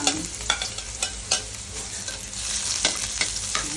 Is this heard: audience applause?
no